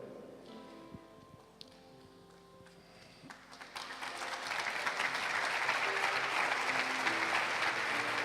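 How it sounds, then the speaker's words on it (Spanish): Audience applause at a workshop talk builds gradually from a quiet room with faint taps and rustles into a sustained, steady wash of clapping that grows louder and fills the space by the end. "yo aprecio los aplausos que usted me da"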